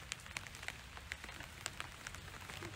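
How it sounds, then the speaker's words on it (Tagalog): Steady rain patters on a surface, with scattered louder drops landing close by over a constant wash of falling water. "umuulan ngayon"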